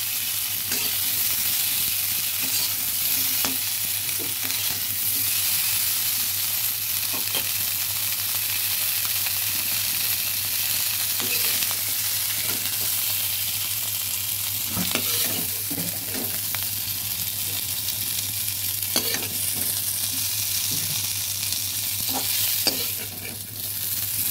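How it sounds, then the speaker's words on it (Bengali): Cauliflower and potato pieces fry in hot oil in a pan, giving a loud, unbroken sizzle with repeated clattering and scraping as they are turned over and over, beneath a steady low hum. "বারবার করে নেড়ে নেড়ে কপি আলুগুলো ভেজে নিয়েছি"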